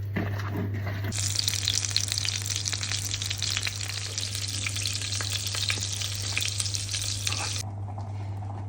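Cutlets sizzle steadily and loudly in a hot pan, a dense crackling hiss that starts abruptly and cuts off near the end, with a low hum underneath.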